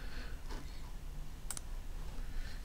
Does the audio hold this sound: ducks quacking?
no